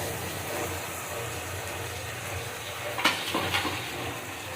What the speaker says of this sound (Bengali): দিয়ে আমি এটা ভালো রকম কষিয়ে নেবো